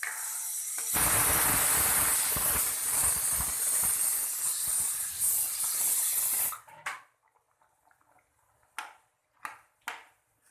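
Fried fish pieces dropped into a boiling curry set off a loud, broad hissing rush for several seconds, which cuts off abruptly and leaves near silence broken by a few short clatters.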